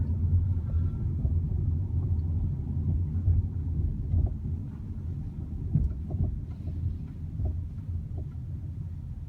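A 2016 BMW X1 climbs a steep hill, its engine and road noise forming a steady, fairly quiet low rumble that runs throughout with small bumps and no talking.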